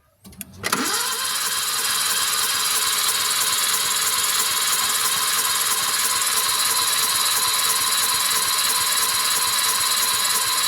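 A turbocharged kei car engine, restored and freshly valve-adjusted, turns over steadily during a compression test, a loud sustained cranking drone holding for about ten seconds after a brief quiet start.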